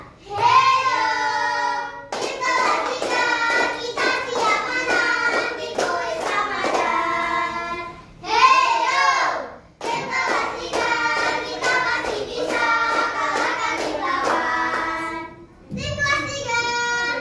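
Classroom group of children from class 3 performing with rhythmic hand clapping mixed with loud sung and chanted voices, sustained and close throughout with brief pauses between phrases.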